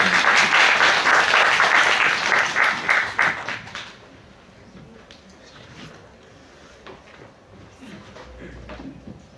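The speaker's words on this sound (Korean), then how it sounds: "박수로 맞이해 주시기" Audience applause at a school Korean-language club showcase contest, welcoming a student speaker from Daedeok High School; loud, dense clapping fills the first four seconds, then fades to a quieter room murmur with scattered claps.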